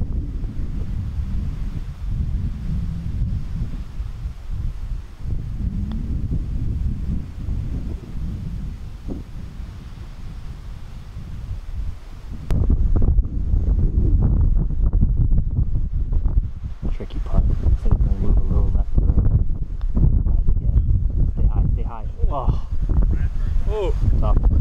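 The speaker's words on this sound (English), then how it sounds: "Wind gusting." Steady, heavy wind gusts buffet the microphone on a golf course in a low rumble that strengthens partway through, with voices talking faintly underneath.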